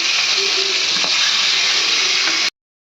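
Fish pieces fry in hot oil in a covered pan, giving a loud, dense, steady sizzle with faint crackles close by, continuing unbroken until it cuts off abruptly.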